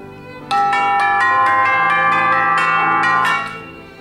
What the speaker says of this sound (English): These are our chimes.